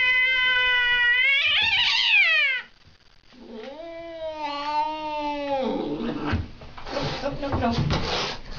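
A house cat makes a few long, drawn-out meows and wailing yowls up close. One strained cry is followed by a pause, then two more, with a person speaking softly in between.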